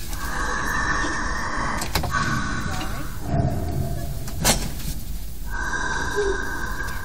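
A voice imitates snoring through a CPAP mask, with raspy, hissing inhalations and snorts in a slow, repeated rhythm.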